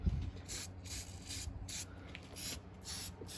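CRC battery cleaner sprayed onto the battery terminals and connectors of a 2001 Subaru Outback. The can gives a series of short, faint hissing bursts in an uneven rhythm, heard alone.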